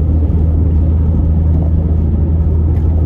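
A VW Golf Mk4 driving with a damaged driveshaft, a loud constant low rumble of road and engine noise heard from inside the car.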